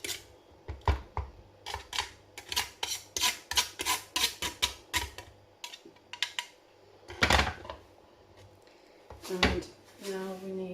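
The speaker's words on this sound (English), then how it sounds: "now we need to grate the lime" Fresh ginger or a whole lime is rubbed against a kitchen grater in quick bursts of rasping strokes, close and crisp, with pauses between runs and a voice speaking briefly near the end.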